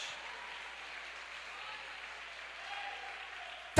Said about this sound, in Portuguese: Só quem crê glorifica Jesus o mais alto que você puder e aplauda Ele nesta noite.